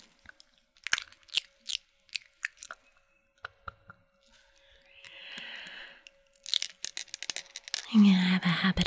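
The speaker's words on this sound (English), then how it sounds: "I'm gonna have a habit of chewing on my pens." A pen is chewed near the microphone in an ASMR nurse medical exam setting, a run of close, crisp crunching bites and soft squishes, with brief whispered speech around them.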